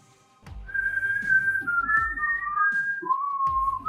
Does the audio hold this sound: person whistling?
yes